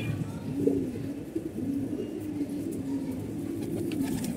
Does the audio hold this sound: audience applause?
no